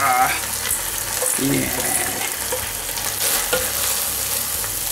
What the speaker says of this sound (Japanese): じゃあこれ火を通したとこに先ほどのエビを入れる